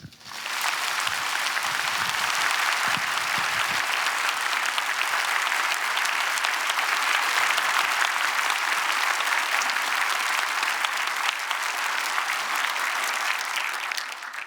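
Sustained, loud audience applause fills a church dedication service, a dense wash of clapping that swells quickly and holds steady without talk before tapering at the end.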